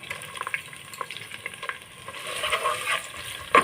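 Chopped onion, spring onion and garlic paste fry in hot oil for a tehari, a soft, steady sizzle with occasional stirring clicks that grows louder and denser toward the end.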